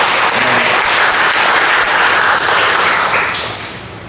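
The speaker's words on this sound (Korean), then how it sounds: "박수 한번 칩시다" Church congregation at a Sunday worship service applauding together, a loud dense burst of clapping that holds steady and then tapers off near the end, no speech over it.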